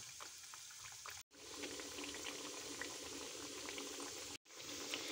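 Homemade chicken nuggets frying slowly in oil over low heat give a steady bubbling, crackling hiss, close and continuous, broken by two brief silent cuts, with no talking.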